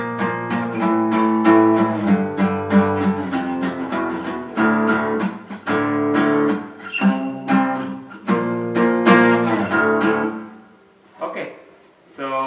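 An electric guitar plays the riff pattern from a song, rhythmic chugging chords with muted chucks and ringing notes, loud and close, trailing off near the end.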